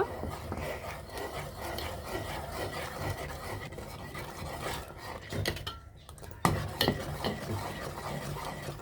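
A spoon scrapes and swirls custard powder through milk in a pot for homemade custard ice cream, a continuous soft rubbing and stirring close by, with a brief knock near the end.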